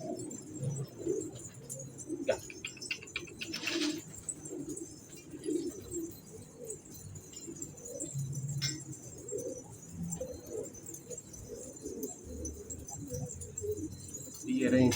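Pigeons at a loft cooing softly in low, repeated murmurs throughout, faint and somewhat distant, with a few light metallic clinks and a voice now and then.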